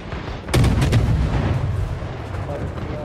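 A warship's guns fire in a naval video game: a deep booming salvo of several rapid blasts, then a low rumble that lingers and fades while faint game sounds continue.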